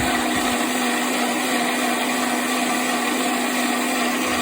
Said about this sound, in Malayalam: മിക്സിയിലേക്ക് ഇട്ട് അതിനകത്ത് 1 കപ്പ് തേങ്ങയും കൂടി ഇട്ട് ഞാനൊന്ന് അരച്ചെടുക്കാൻ പോവാണ്